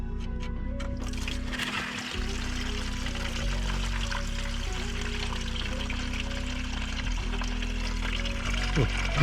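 Coolant pours steadily out of a removed oil cooler hose on a 2.2 FWD Ford Transit van, a continuous splashing stream with low background rumble that holds at an even level throughout.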